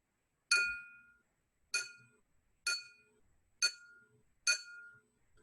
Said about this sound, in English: I'm going to tap the lower, less filled glass